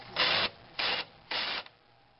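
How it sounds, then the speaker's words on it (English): A countersink cuts a hole in a Briggs primer plate, heard as three short, quiet whirring bursts of under half a second each, separated by brief pauses, with nothing else around them. "I'm going to take a countersink."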